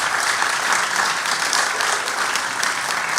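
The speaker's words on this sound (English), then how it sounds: "if you'd like to applaud, now would be a good time to applaud to your candidates" Audience members at a mayoral debate clap for the candidates, giving steady, moderately loud applause with no talking over it.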